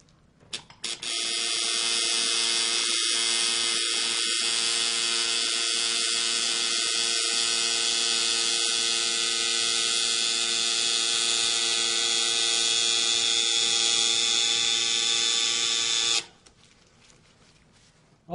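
A tattoo machine buzzes steadily and loudly up close for about fifteen seconds, a constant electric whine with brief dips, then cuts off.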